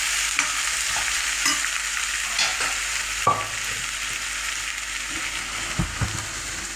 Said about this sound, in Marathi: आता मी कांदा सोडते, बीट पण टाकून दिलं आहे.